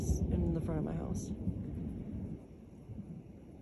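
Heavy thunder rolls and rumbles during a severe lightning storm in the Northeast, a loud deep boom at the start fading into a long low rumble, heard close and alone.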